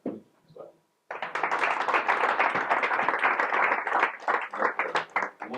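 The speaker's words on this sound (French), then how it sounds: "je demande que tout le monde applaudisse ce soir" Sustained audience applause after a brief spoken phrase, many hands clapping densely and loudly for several seconds at a life-coaching talk.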